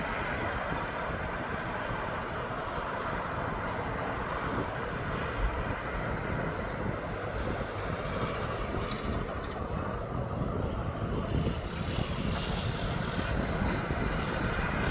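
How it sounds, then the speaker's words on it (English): A Ryanair jet airliner passes at East Midlands Airport as a continuous broad roar of engine noise, steady and fairly loud, with some wind buffeting on the microphone and no speech. "Here comes this Ryanair as it's passed in front of that Air Explorer"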